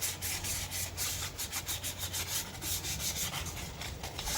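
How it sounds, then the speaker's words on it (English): Hand sanding a car rim with fine 1000-grit sandpaper: a steady, close scratchy rubbing that sweeps back and forth in a quick, even rhythm, continuous throughout with a low hum underneath and no talking. "I'm just gonna finish it off with this Grit 1000 sandpaper to have some smoothness in it."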